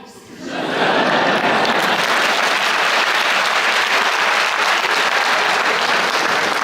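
Loud, sustained applause from a large audience at a debate on God and atheism rises within the first second and holds steady, a dense wash of clapping with no voices above it.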